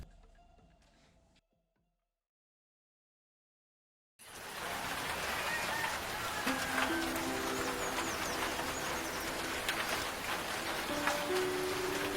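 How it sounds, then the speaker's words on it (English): Steady rain falls outside a hut in New Zealand hill country, a dense, even hiss that starts abruptly after a silent gap and continues loud and unbroken, with faint tonal sounds layered underneath. "the boys wake in the hut to the ominous sound of rain."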